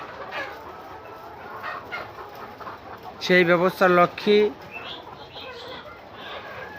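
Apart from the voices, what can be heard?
chickens clucking on a poultry farm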